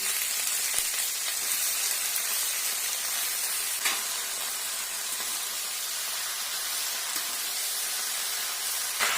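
Dry red chilli, whole mustard seeds and panch phoron fry in hot oil, a continuous loud hiss of sizzling with occasional sharp pops, steady from start to finish with no voices.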